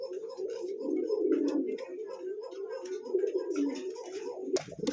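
A breeding pair of pigeons for sale coos in close, rhythmic rolling phrases, repeated throughout and fairly near, ending with a sharp knock or rustle.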